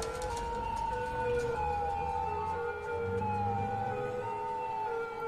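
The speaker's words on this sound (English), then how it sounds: "Send out the police cars." Police car sirens in a city-building video game wail continuously over each other in long, steady tones, sounding somewhat distant and layered, with no voices.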